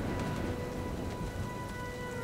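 Rain falls steadily in Jurassic Park: The Game, a dense, even hiss with soft patter that runs unbroken throughout, fairly loud, with no voices.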